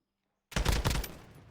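A short burst of gunfire in a tactical shooter game: a few quick shots close together after a moment of silence, loud and punchy, then fading.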